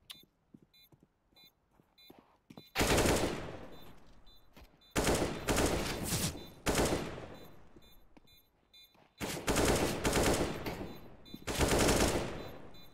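Gunfire in a competitive team shooter match, several long automatic bursts of rapid shots separated by short pauses, loud and close, with quieter footsteps and game sounds between.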